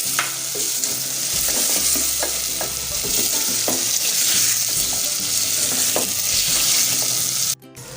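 Chopped potatoes fry and sizzle steadily in a spiced masala with turmeric and chillies, a constant hiss broken by repeated stirring scrapes and clinks, close up, with no talking.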